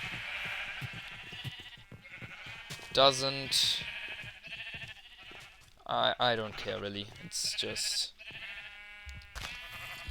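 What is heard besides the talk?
sheep bleating in Minecraft video game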